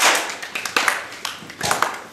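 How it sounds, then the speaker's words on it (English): Scouts' clapping cheer, a short burst of rhythmic hand claps and taps from a small group at close range, quick and uneven. "That's a round of applause and a big hand."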